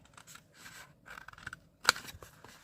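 Scissors snipping through material for a craft organizer project, soft repeated cuts building to one sharp, close snip near the end, with no voices.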